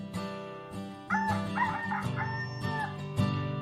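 A rooster crows in a drawn-out, wavering call, preceded by a few short clucks or yips nearby; fairly clear and close.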